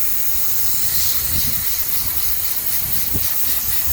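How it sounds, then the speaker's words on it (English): Water hose spray rinses acid cleaner off a rooftop HVAC package unit, a steady close hiss of spraying water with faint low splashes, no talking. "Rinsing the acid off now."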